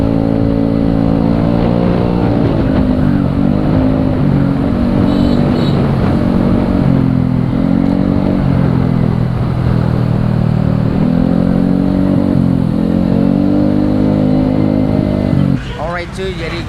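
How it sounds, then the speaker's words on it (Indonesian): A stock-exhaust Suzuki Bandit motorcycle rides steadily, its engine drone loud and close with gentle rises and falls in pitch, then fades sharply near the end. "Suzuki Bandit, dia knalpot standar ya, emang motornya standar parah"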